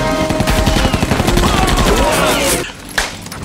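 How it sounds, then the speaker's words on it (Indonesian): Soldiers firing guns in an action film, a dense rapid fusillade of repeated shots that runs continuously, then cuts off into a quieter moment with one more burst, with a voice faintly mixed in. "langsung mengangkat senjatanya dan menembaki satu persatu tentara Bang Lahap"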